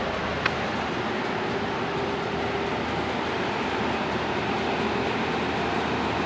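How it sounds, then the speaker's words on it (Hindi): A train running along a railway track in front of a house, a steady low rumble and rolling rail noise that holds evenly throughout, with no voices. "मेरे घर के सामने रेलवे ट्रैक है"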